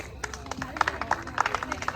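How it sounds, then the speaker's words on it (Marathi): Scattered hand claps from a small gathering welcoming a couple's dance performance at a Sangeet ceremony, uneven and moderately loud, mixed with crowd chatter and voices. "जोरदार टाळ्याने स्वागत करू"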